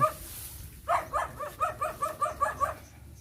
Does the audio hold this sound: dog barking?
yes